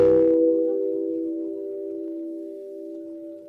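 A tongue drum played through a guitar distortion pedal: a single struck tone blooms with a gritty attack, then sustains as a thick, buzzing drone that slowly fades over several seconds, alone.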